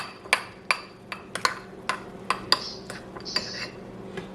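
A utensil stirs honey into a bowl in a quiet kitchen, making about ten bright clinks against the side at an uneven pace, close and clear with no talking.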